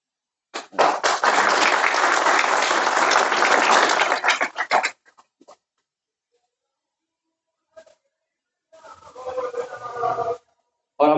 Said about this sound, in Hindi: बहरहाल जोरदार तालियां हो जाए फ़हीम राजा साहब के लिए।